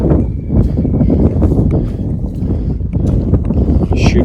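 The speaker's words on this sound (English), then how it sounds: "Wind's definitely picked up." Gusty wind on the Appalachian Trail, buffeting the microphone in loud, uneven rumbling bursts with faint scattered clicks and rustles, continuous for several seconds.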